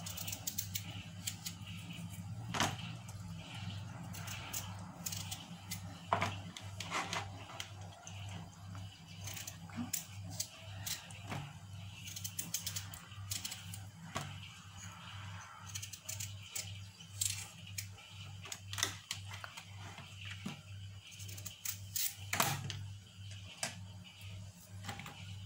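A knife cuts through washed potatoes into French fry strips, giving faint, irregular knocks and taps on a board, scattered through a quiet kitchen with a low background hum.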